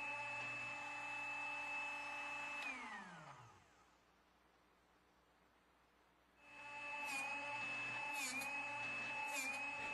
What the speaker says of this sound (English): Now, sharpen the small bit, but use very light pressure and fewer white line to white line rotations.